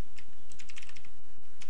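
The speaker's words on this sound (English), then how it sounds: "So here just type" Rapid typing on a computer keyboard, a close, loud burst of quick key clicks with brief pauses between groups of strokes.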